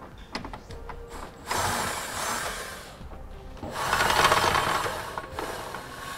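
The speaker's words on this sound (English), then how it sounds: "Now we can remove the other 2 bolts here that's holding our tow hook in place." Ratchet fitted with an 18 mm socket working the bolts that hold the tow hook under a 2016 Nissan Quest, giving bursts of rapid metallic clicking that build up and fade, close by and with no talk.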